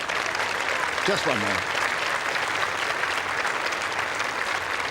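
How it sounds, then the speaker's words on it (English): Spectators at the Queen's Club tennis final applaud steadily in a dense, continuous wash of clapping, with a brief spoken voice rising above it near the start. "And the girls of Nonsuch High School in Cheam, Surrey, clapping along with the rest"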